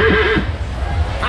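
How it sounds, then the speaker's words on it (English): At the Iowa State Fair, a horse lets out a clear, close whinny with a wavering pitch, followed by fainter stirring and a brief second call amid fairground background noise. "Look at these horses."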